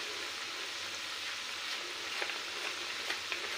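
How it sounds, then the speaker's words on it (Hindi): Rice-flour gathiya namkeen fries in oil over a medium flame, giving a steady, close bubbling hiss with scattered small crackles and pops. "देख रहे होंगे दोस्तों काफ़ी अच्छे तरीके से ये फ्राई होता है"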